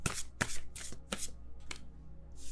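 Tarot cards being shuffled by hand, a series of crisp riffling bursts close to the microphone, with no talking.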